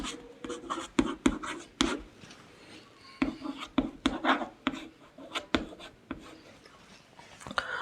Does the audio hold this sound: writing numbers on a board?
yes